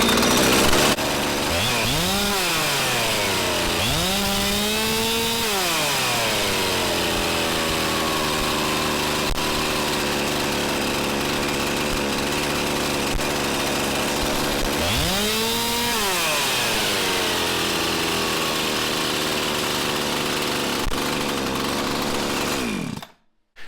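A Husqvarna 372XP chainsaw engine runs steadily close by, loud and buzzing, revved up and back down in three sweeping rises before cutting off abruptly at the end.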